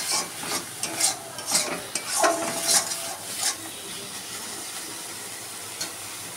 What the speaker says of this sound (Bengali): আমার মশলা কষা মোটামুটি হয়েই এসেছে। দেখো নিচেটাও ধরছে না, আবার কড়াই থেকে ছেড়ে ছেড়েও আসছে।